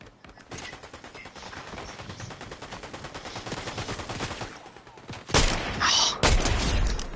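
Rapid automatic gunfire from the Fortnite zero build mode, a long steady burst of shots followed by two louder, closer blasts near the end.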